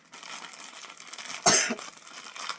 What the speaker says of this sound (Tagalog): Medyo inuubo pa ako.